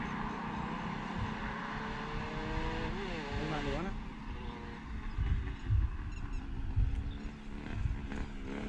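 Engine of a just-started pickup truck with a poorly running carburetor, an uneven rumbling idle with a brief rev, moderately quiet under talking.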